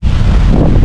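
Strong seaside wind blasts straight into the microphone as a loud, continuous roar and rumble for under a second.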